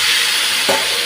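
Raw meat and a paste of onion, garlic and chili hit hot raw mustard oil in a pan, giving a sudden, loud sizzling burst over a constant hiss of frying.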